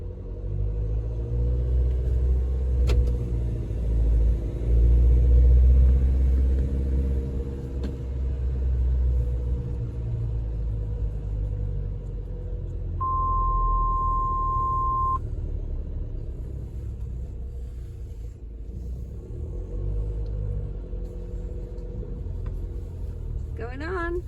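A car rolls up the boarding ramp onto the Spirit of Tasmania ferry on a daytime sailing, giving a steady, close interior rumble throughout, with a brief electronic tone partway through.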